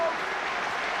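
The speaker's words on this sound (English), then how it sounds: "the crowd just buzzing a bit" A rugby stadium crowd at a GB versus New Zealand test match buzzes and claps in a dense, continuous roar, with a commentator's voice over the top.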